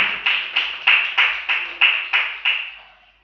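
A church congregation claps for Jesus in nine sharp, evenly spaced beats, loud and close, ringing briefly in the hall after each one.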